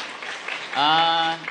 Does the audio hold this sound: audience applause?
yes